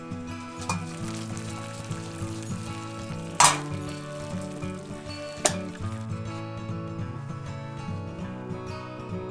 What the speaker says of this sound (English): put the grated soap into some boiling water and stir it until it's dissolved